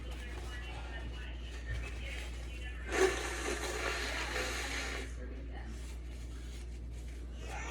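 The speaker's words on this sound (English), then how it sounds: "I'm gonna blow my nose to get that pepper out," A person blows their nose hard for about two seconds to clear out pepper while cooking, a forceful, breathy rush that rises abruptly over a steady low kitchen hum and then stops.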